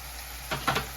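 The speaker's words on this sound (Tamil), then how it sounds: "நான் இதில் கடுகு இப்போ போட போகிறேன்." Mustard seeds dropped into hot oil while cooking carrot tuna varai, starting after a quiet pan hiss with a few short, sharp bursts of crackling sizzle close by.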